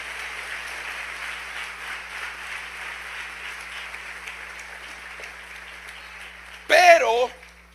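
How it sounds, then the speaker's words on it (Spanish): A church congregation applauding during a sermon, a steady mid-level wash of clapping that runs for several seconds before a voice breaks in loudly over it near the end. "Fuerte el aplauso al Rey."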